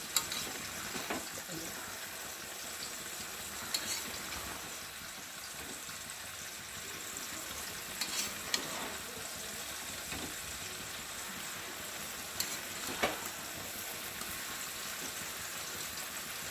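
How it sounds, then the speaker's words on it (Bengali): Cabbage and potatoes fry in a pan and are stirred now and then, making a continuous soft sizzle with scattered light scraping taps from the utensil across the whole stretch. "চলো একটু ভালো করে নেড়ে দিই"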